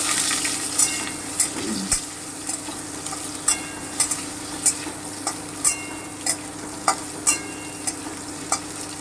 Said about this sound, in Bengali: এবারে আমি কাঁচা কলাটাকে ভেজে নিচ্ছি